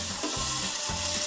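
Stuffed okra (bharwa bhindi) sizzles and fries loudly in a pan while being stirred, a constant close hiss with scraping stir strokes and no talking.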